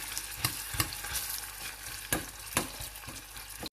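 Chopped onions sizzle and fry in hot oil in a home kitchen pan, with a spoon stirring in several distinct scraping strokes over a steady close crackle.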